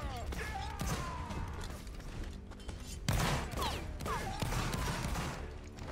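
Musket volleys crack out in a line-battle video game, a sustained ragged fusillade with a sharp fresh volley midway, loud and dense amid mechanical clatter and creaks.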